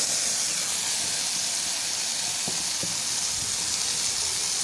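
Sour spinach curry with poppy seed paste simmering in a pan gives a steady, even hiss of bubbling, with a couple of faint soft pops partway through and no talking.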